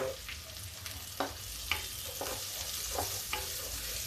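Onions frying in a pan with asafoetida for Lucknowi-style chhole, a steady low sizzle broken by a few sharp clicks and scrapes of stirring, close and fairly quiet.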